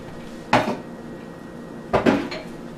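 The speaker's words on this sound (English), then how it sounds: "Put our dirty things into the sink." Dirty measuring cups and dishes set down in a kitchen sink: two close clattering clusters of ceramic and metal knocks about a second and a half apart, over quiet room tone with no talk.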